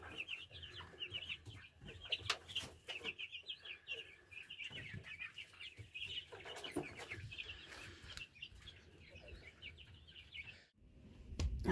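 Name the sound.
hens clucking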